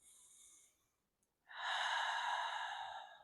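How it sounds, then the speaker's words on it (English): Two breathing exhales sound close and soft: a brief airy breath, a short pause, then a longer and fuller exhale that fades away. No talking can be heard. "I like the audible sound of the exhales."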